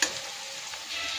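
Onions fry in a pan, giving a close, steady sizzle with bright crackling and a soft stir at the start.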